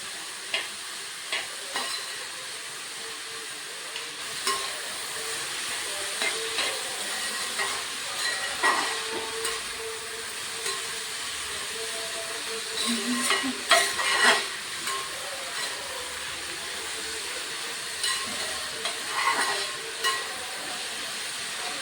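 Sliced onions with half a teaspoon of turmeric sauté in a pan for chicken curry, a continuous close sizzle broken by repeated scraping stir strokes and light clinks, with no voices.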